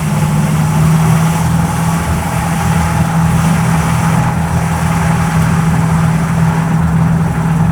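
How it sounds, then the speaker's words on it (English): Cadillac Seville climbing an uphill stretch of road with its transmission under load, a steady low engine drone with a constant hum and road noise, loud and unbroken throughout with no talking. "now we're going for an uphill part of the road here, so we can test"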